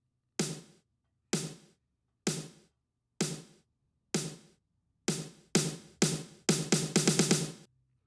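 Isolated snare drum hits from an electronic track ring out alone, spaced evenly at first, then quickening into a rapid roll of closely packed strikes at the end.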